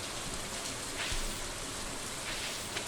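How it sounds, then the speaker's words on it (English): Rain falling in the Stardew Valley video game: a steady, even hiss of rainfall with faint scattered patters, soft and continuous, with no voices over it. "we are back in Stardew Valley, and it is raining outside"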